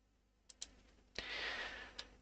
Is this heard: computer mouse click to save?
yes